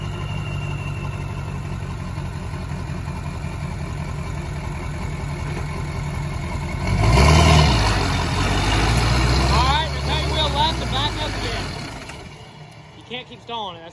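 A 7.3 Powerstroke diesel truck rumbles off-road, its engine surging louder partway through before dropping away as it stalls, with voices talking over the steady mechanical drone.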